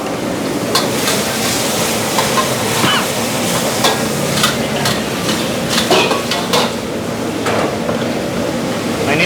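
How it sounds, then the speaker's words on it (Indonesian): Chicken being stir-fried in sweet and sour sauce in a pan over high heat, with a steady loud sizzle and frequent metal utensil scrapes and clanks against the wok, no speech. "Ini apinya biarin aja kita jos terus ya sampai si saus asam manisnya jadi mengental ya."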